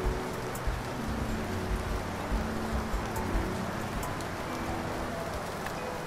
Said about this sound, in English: Can I take a photo of the rain?